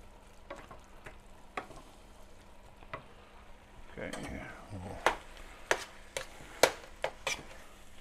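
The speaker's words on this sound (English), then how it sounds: "Let's go ahead and give those a stir." Vegetables sauté over turned-down heat in a pan for New Orleans Cajun-style oyster dressing: a low sizzle runs throughout, then a spoon stirs with scraping and sharp clacks against the pan.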